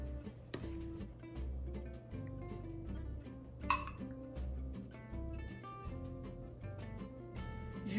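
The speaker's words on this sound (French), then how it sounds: "je vais les mettre dans le plat au four" Ramekins of crème brûlée custard are set down one by one into an oven baking dish, making light ceramic clinks and taps scattered over a steady tonal background.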